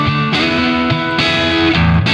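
Electric guitar notes through a reverb effect from the AmpLion 2 amp simulator, ringing with a spacious, echoing tail, each chord blooming and lingering as it fades, played loud with no talking.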